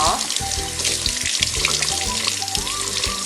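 Sweet peppers rinsed under a running kitchen tap, a steady close rush of water with splashing and clatter in the sink, and a faint hum underneath.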